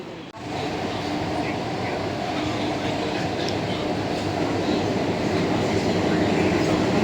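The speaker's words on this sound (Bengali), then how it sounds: "আমাদের মেট্রো ছেড়ে দিয়েছে, মনে যাচ্ছে এখন হাওড়া।" A Kolkata metro train heading toward Howrah gives a steady, loud rumble and rolling hum, heard from inside the carriage with no break.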